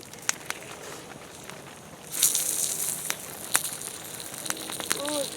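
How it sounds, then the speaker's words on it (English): Duck meat frying on a hot rock over a wild campfire, a steady crackling sizzle that swells partway through, with scattered pops and a soft voice near the end. "Oh, good sizzle."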